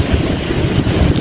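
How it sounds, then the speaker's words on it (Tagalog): Strong ocean waves churn in a loud, continuous rumbling surge mixed with heavy wind buffeting the microphone, with no voices. "Sobrang lakas ng alon."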